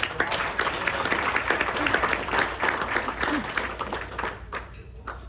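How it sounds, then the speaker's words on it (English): Applause fills the room at a charity dinner: a steady, dense clatter of many hands that thins out near the end, with faint voices underneath. "Round of applause for that."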